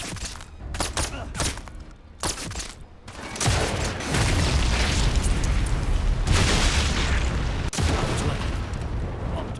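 An explosion destroys a Zugwerfer rocket launcher in a Sniper Elite game, starting as a few scattered sharp pops before a loud, dense roar of blast and rumble that sustains for several seconds, with a brief crack near the end.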